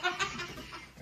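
Chickens and roosters carried in a car cluck a few times in short close bursts, fairly loud against a faint hiss, with no talk.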